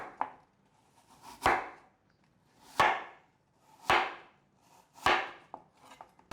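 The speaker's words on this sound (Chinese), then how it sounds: "把苹果切片" A knife slices through an apple on a cutting board in five or six crisp, evenly spaced cuts, each a sharp thud followed by a short crunch. The cuts are close and clear, and no one speaks.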